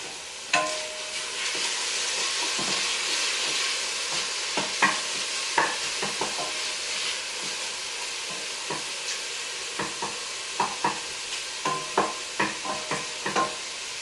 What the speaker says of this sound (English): the bacon's stewing well over there